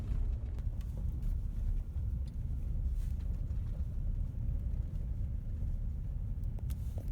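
A car rolls through an industrial job site at about 15 mph, close and continuous, its low engine and road rumble steady under wind buffeting the microphone and scattered faint clicks.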